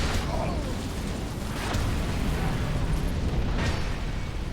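Booming explosions burst around a lava-spewing giant boss in Dark Souls II, a dense, rumbling roar of blasts that stays loud and continuous.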